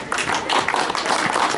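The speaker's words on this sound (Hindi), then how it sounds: "उनको ताली बजाकर ध्वनिमत से पारित कीजिए" An audience at an annual general meeting claps together to approve the accounts, a short burst of dense applause at moderate distance.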